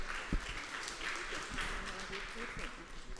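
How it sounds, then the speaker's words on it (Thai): A seminar audience applauding to welcome a speaker onto the stage, continuous moderate clapping with a voice talking over it. "ขอเสียงปรบมือต้อนรับดร."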